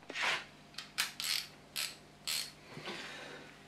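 A half-inch socket ratchet clicks in several short bursts while a Triumph Bonneville T140 front wheel is taken off, the quick pawl ticks close and clear with brief pauses and no talking.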